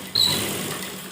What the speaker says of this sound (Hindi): उसके बाद हमें सिंपल ही इसको सिलाई लगानी है